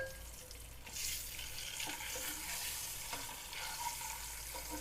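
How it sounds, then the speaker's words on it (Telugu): Eggs frying in a pan for a Telugu egg pulusu, producing a continuous close sizzle with soft scraping and stirring movements, steady and fairly quiet, with no one talking. "ఇలా ఎగ్స్ ఫ్రై చేయడం వల్ల"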